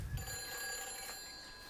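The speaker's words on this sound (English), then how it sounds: "That's the phone." Telephone ringing inside the video game Everybody's Gone to the Rapture, a steady electronic trill heard close and fairly loud for a couple of seconds, with a low thump at the start and no voices.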